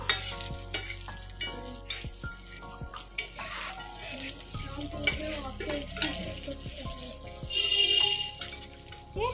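Bay leaf and cumin seeds crackle and sizzle in hot oil in a pan, with steady frying, scattered pops and stirring scrapes, close and clear throughout.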